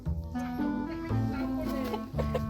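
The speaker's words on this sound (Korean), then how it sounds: "여기 닭 있어" Hens of a blue-egg-laying breed cluck steadily in a coop where eggs are laid, a dense run of close, harmonic clucks continuing throughout with some background chatter.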